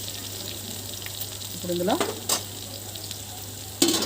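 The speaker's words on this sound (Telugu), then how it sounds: "బాగా బంగారు రంగు వచ్చేట దాకా వేయించుకోవాలండి" Food fries in a pan with a steady low sizzle while someone stirs it, and a voice speaks briefly over the frying.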